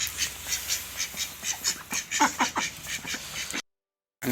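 Ducks at a village farmyard quack in a rapid, steady run of calls, fairly close and loud, before a brief silence near the end.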